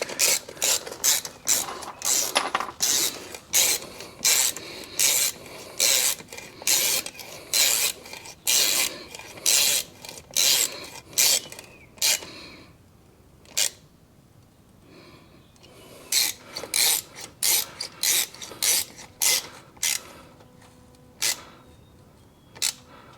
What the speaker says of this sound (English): So I kind of prefer to put my tap cons in by hand